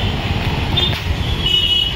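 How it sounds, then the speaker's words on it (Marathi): Street traffic gives a steady, moderately loud roadside rumble of passing vehicles. A faint higher whine runs through it, with no clear horn or speech. "किती ट्रॅफिक आहे"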